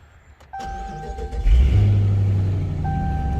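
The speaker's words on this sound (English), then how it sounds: "So now I'm gonna turn the car on" A 2015 Dodge Charger is switched on: a steady electronic chime tone sounds, then the engine turns over and settles into a low idle hum, with the chime returning near the end.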